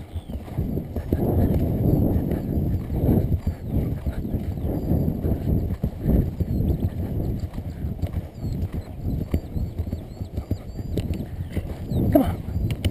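Hooves of a young four-year-old mare ridden on a hack in windy weather, clip-clopping in a steady close rhythm over low wind rumble, with a rider's voice now and then.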